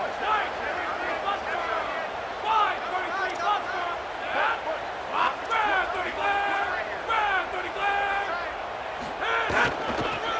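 Stadium crowd in the College Football 27 video game yells and roars continuously, a dense, loud wall of cheering with sharp whistles and shouts rising over it throughout.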